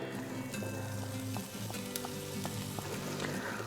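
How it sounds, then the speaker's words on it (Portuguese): Diced bacon pieces sizzle and crackle in a pan as a sauté begins for oxtail with watercress, a steady close frying hiss with scattered sharp pops and faint stirring scrapes. "E vou começar o meu refogado. Eu tenho aqui 100 gramas de bacon em cubinhos"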